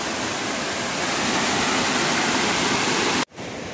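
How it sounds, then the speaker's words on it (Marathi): A small overflowing waterfall on a riverside crab-catching trip roars in a loud, steady, close rush of water that cuts off sharply near the end, with no talk over it. "अरे जबरदस्त धबधबा"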